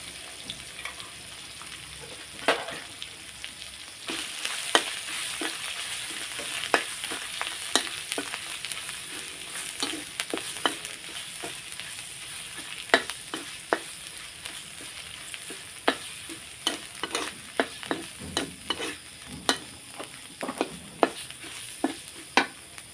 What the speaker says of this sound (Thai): ช่วงที่เราผัดเครื่องแกงก็ใช้ไฟอ่อนไปก่อน